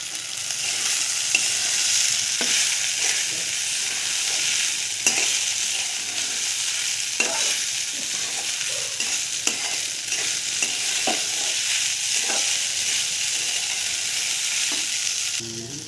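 Poha with onion and potato being stirred and fried in a pan, a steady close sizzle with repeated scraping stir strokes throughout, no talking.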